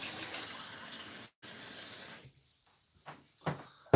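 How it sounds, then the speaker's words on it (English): Water poured into a container indoors makes a steady, close rushing stream for about two seconds with a brief break, then trails off into a few soft knocks and clunks. "Let's put some water in this a minute."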